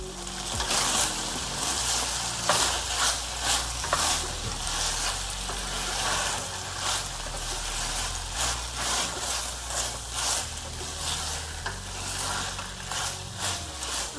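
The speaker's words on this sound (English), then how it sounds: "we're gonna let that simmer for a few more minutes" Beef pepper steak stir fry simmering in a pan, a steady close sizzle and bubbling with scattered pops and crackles throughout, no talking.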